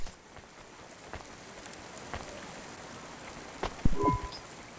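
Steady rain hisses in the Cloudpunk video game city, a soft even wash with scattered drip taps and a brief tonal game blip near the end, no voices.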